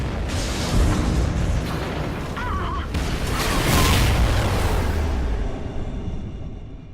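A space station blowing up in the shooter game Call of Duty Ghosts, a dense roaring rumble with whooshing debris that swells and holds for several seconds before fading, loud and continuous with no voices over it.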